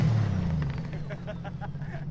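Nissan S13 with a 2JZ engine pulls in third gear while drifting, a loud low engine drone throughout with rising tones, under a voice.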